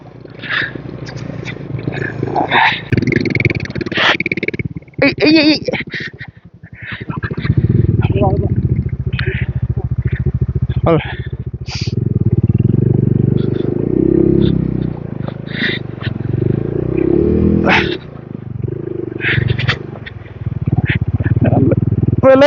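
A motorcycle ridden on a mountain road toward Mechuka during the monsoon, its engine droning steadily up close beneath intermittent talk, with bumps and wind along the way.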